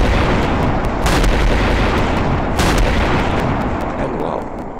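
Heavy airship artillery firing in Garry's Mod, a constant roar of booming shots with two especially sharp, loud blasts standing out.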